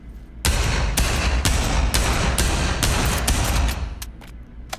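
Pistol fire in a PSVR2 virtual reality shooter game: a rapid, loud series of sharp gunshots, about a dozen cracks in quick succession with no talk, thinning out toward the end.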